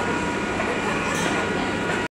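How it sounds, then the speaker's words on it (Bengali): The Budge Budge local train pulling out of Platform 17 at Sealdah station, a loud, steady rumble of rolling carriages with rail clatter, then an abrupt cut to silence. "ট্রেনটা ছেড়ে দিল"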